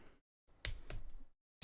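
Short bursts of typing on a computer keyboard while entering song lyrics, a few quick key clicks separated by silent gaps.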